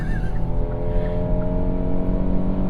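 A 2023 Kia Telluride's 3.8 engine accelerates hard in sport mode with traction and stability control off, a loud, steady, rising drone heard from inside the cabin, with no voices.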